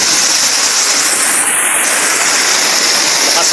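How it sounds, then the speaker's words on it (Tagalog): Heavy rain pouring down in a strong storm with wind, a loud, dense, continuous roar of water close by that holds steady throughout. "Lakas ng ulan."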